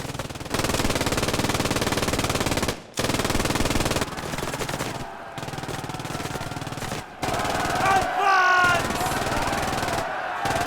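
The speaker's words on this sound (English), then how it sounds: "Until a machine gun started to open fire" In a war short film, a machine gun fires in long, loud, rapid bursts broken by brief pauses, and later bursts mix with distant shouting and higher whining sounds.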